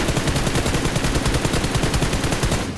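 Rapid, continuous gunfire in the battle-royale game BGMI during a shotgun fight, a dense burst of loud overlapping shots with no pause for nearly three seconds.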